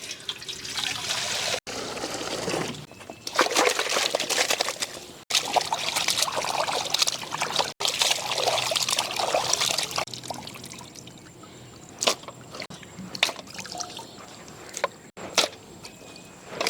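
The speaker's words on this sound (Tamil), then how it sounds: "சிக்கன் நல்லா கழுவி எடுத்துக்கலாங்க" Running water pours and trickles over raw chicken as it is washed by hand in an outdoor village kitchen, a steady close splash broken by brief pauses and a few sharp clicks near the end.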